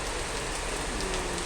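Heavy rain pours in Kuwait, a dense, steady hiss of drops drumming on surfaces throughout, with no voices.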